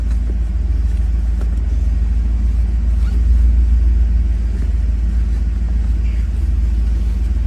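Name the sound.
1991 Pontiac Firebird Formula engine running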